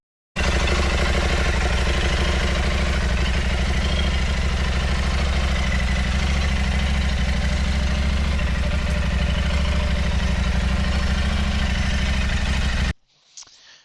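A Husqvarna Norden 901 Expedition motorcycle engine idles loudly and steadily up close, a continuous low rumble that cuts off abruptly near the end.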